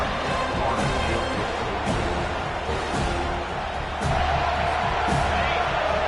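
Roaring stadium crowd in a college football video game, a dense constant wall of cheering with periodic swells, under a commentator's voice.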